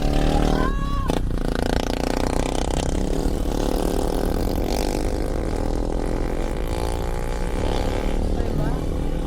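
A motorcycle engine runs near a lakeside campsite, a steady droning rumble with rising whine as it revs and pulls away, while people talk and call out over it.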